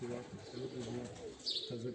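A racing pigeon coos in low, rolling repeated phrases close by, with voices speaking in between the calls.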